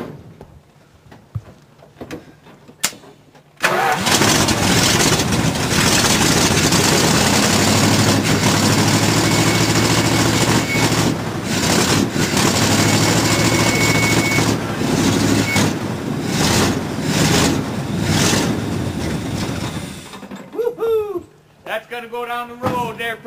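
A truck engine running on compressed wood gas idles and revs a little above idle, a loud steady low rumble that starts abruptly and holds for most of the stretch before cutting off, with a few voices at the end.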